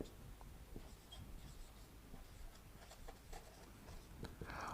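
Pen scratching on paper during a math lesson on area and perimeter, a quiet continuous stream of short strokes and scrapes heard up close and faint.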